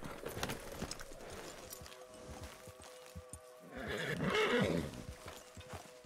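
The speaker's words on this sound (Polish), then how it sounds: "No jest tu słupek, dobra, przywiąż konia." Horse in Red Dead Redemption 2 whinnying loudly and clip-clopping its hooves, the neigh swelling in the middle of game ambience with scattered hoof steps around it and no talk.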